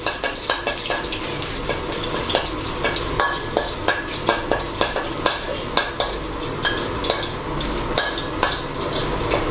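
Coarsely chopped Chinese garlic stir-fries in hot oil in a pan, with constant close sizzling and repeated rhythmic scrapes of a spatula stirring.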